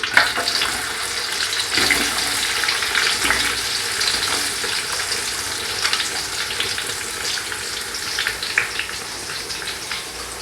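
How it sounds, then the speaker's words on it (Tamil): Cardamom, cinnamon and onions fry in oil for a Muslim-style biryani, giving a loud, steady, close sizzle with bursts of spattering and no talk. "ஏலக்காய் பட்டை சாம்பு வெங்காயம் போட்டுக்கலாம்"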